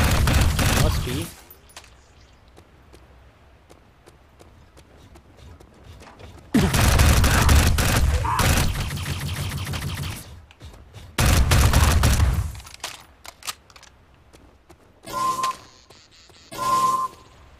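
Turret fire in the Xbox 360 game Dark Void comes in several loud, sustained bursts of rapid shots, separated by quieter gaps.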